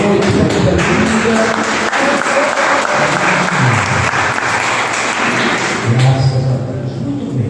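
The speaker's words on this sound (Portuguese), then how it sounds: "Você pode aplaudir o nome do Senhor nessa noite" A church congregation claps loudly during an evening family worship service, a dense continuous wave of applause with scattered louder claps and a voice briefly speaking over it near the end.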